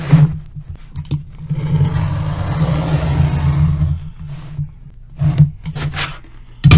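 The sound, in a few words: utility knife cutting seam of cardboard USPS Priority Mail box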